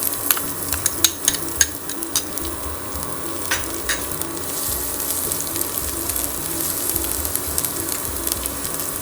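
Garlic sizzles in hot oil in a pan for a rice tempering, with a steady, crisp frying hiss and scattered sharp pops and clicks, loudest early on, under faint background hum.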